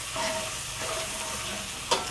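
Egg chilli fries in a pan while being stirred, a soft steady sizzle with light scraping strokes throughout and a sharp clink of the utensil near the end.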